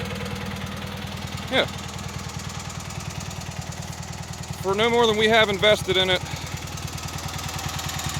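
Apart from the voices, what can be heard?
Cub Cadet 782 garden tractor engine running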